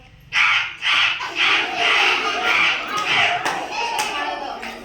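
Several children loudly imitate a crow together, repeating drawn-out cawing calls in a steady rhythm, close by.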